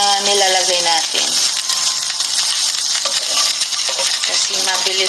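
Dried fish frying in a small amount of oil crackle and sizzle loudly and close, with metallic scraping from stirring and a brief voice or tonal sound near the start.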